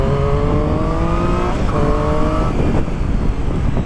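A Triumph Street Triple S 660 A2 motorcycle accelerates hard, its engine note climbing through gears in loud, close rising whines with a brief dip between shifts.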